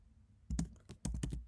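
Fingers tap out Python code for a temperature converter on a computer keyboard: a quiet pause, then two bursts of close, crisp clicking keystrokes in an uneven rhythm, with no talking.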